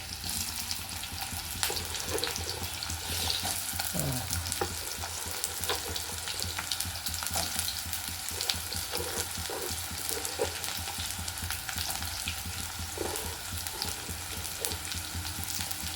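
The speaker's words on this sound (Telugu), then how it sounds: "ఆవాలు, పచ్చిమిర్చి, ఉల్లిగడ్డ వేసేద్దాం." Mustard seeds, green chillies and onion fry in hot oil for Ponnaganti kura, giving a steady, dense sizzle with occasional faint stirring scrapes, close and continuous without talk.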